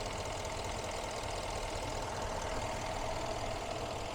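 A 2018 Mercedes CLS engine idles steadily and evenly, a smooth continuous hum with no change in pitch or loudness, heard close up with no voices.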